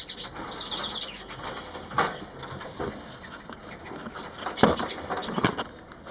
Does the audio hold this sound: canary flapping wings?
yes